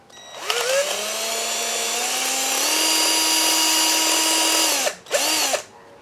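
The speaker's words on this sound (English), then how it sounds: "Now we just need to drill a hole in it to slide it over the battery terminal." A power drill bores a hole through a piece of copper pipe for a battery cable end. It gives a loud, close, steady whine that rises slightly in pitch, stops briefly, then makes one short final burst.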